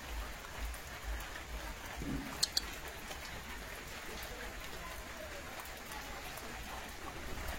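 Steady light rain falls outdoors, a soft continuous patter on surfaces with a low rumble beneath, while a German Shepherd gets soaked; a voice is faintly heard now and then.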